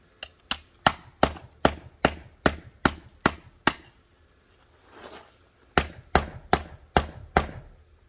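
Rhythmic metallic banging at a construction site near a campsite, where an excavator is working: about a dozen sharp, loud knocks in steady succession, a brief pause with softer scraping, then another run of evenly spaced heavy hits.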